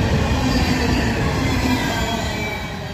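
A coal train rolls past heading south at Abbeville, a loud, close, continuous rumble of rail cars with wheel squeal and rattling, fading slightly at the end.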